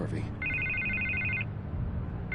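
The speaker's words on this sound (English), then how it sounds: "I can't get the phone to stop ringing." Telephone ringing in Batman: The Telltale Series, an electronic trill in two bursts over a background game music bed, with a brief vocal sound at the start.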